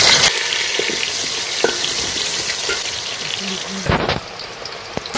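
Potatoes drop into hot oil and ghee with whole spices, setting off a loud, steady, close sizzle like rushing rain, with a few clinks along the way.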